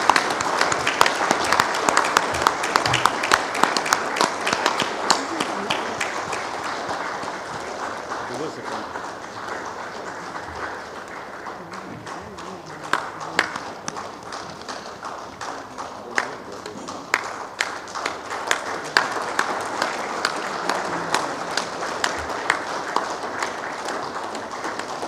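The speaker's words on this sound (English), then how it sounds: "We'll continue to applaud as the presentations are done." A crowd gives a standing ovation at a medical conference, clapping continuously in a hall, with sharp individual claps standing out and some voices mixed in beneath the applause.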